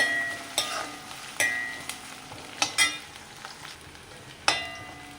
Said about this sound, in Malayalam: നമ്മുടെ ഉള്ളി വെളുത്തുള്ളി ചുവന്നുള്ളി ചുവന്നുള്ളി വെളുത്തുള്ളി കറിവേപ്പിലൊക്കെ ചെറുതായി മൂത്ത് വരുന്നുണ്ട്